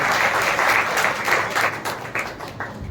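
A church congregation claps hands together after a prayer, a dense steady burst of applause at close range that thins slightly toward the end, with no talk on top.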